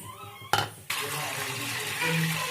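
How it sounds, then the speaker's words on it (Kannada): Water splashes into a pressure cooker already holding lentils and onion, poured in short bursts that settle into a steady filling stream, close and fairly quiet, with no talking. "ಚೊಂಬಾಗುವಷ್ಟು ನೀರನ್ನು ಹಾಕಬೇಕು"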